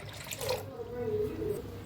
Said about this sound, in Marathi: आता ह्याच्यात वतायचं आहे थंडगार मटक्यातलं पाणी।